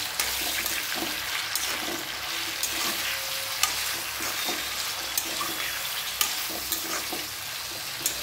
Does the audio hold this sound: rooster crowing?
no